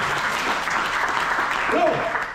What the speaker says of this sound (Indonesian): Berikan tepuk tangan bagi orang kita.